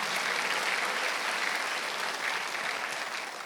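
A church congregation claps during a Sunday worship service, a thick, continuous wash of applause from many hands, loud and sustained.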